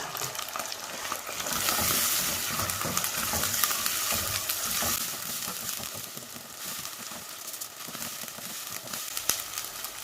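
Ginger, garlic, tomatoes and green chillies fry in a pan with steady, close sizzling and occasional stirring scrapes throughout, no voices heard.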